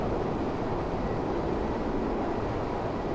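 A steady, even rumble of train motors heard from the cab in Train Sim World on a Scotland express route to Glasgow Queen Street, with no talk.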